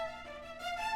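A sampled string ensemble plays short, detached picado notes in quick succession, bright and fairly quiet, with no voices.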